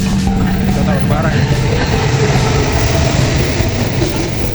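A train passing a railway crossing in Indonesia, heard from a stopped train as a loud, continuous rumble and rattle of rail cars with steady wheel noise.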